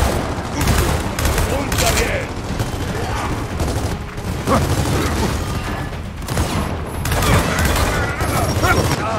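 Dense gunfire from a firefight in Gears of War 4, including sniper shots, loud and continuous with overlapping cracks, booms and mechanical clatter throughout, and a brief shouted voice in Spanish.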